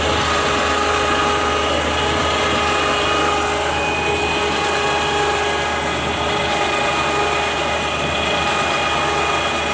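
A 12V Badland 2500 lb ATV electric utility winch runs under load, a steady, loud whining motor drone with a constant high hum that holds unchanged throughout, with no speech.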